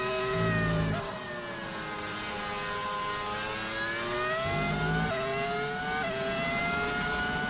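F1 25 racing car engine revving hard in-game, a high whining tone sweeping up and down through gear changes with brief low thumps at shifts, loud and continuous with no talk.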